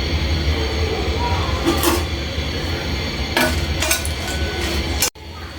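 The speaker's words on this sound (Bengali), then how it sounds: "আটটা শুকনা মরিচ আর মরিচগুলো ভালো করে বেজে নেবো" Dry red chilies fry in a pan with a steady hiss and a low hum, broken by three metallic clanks of a utensil on the pan, close by and fairly loud.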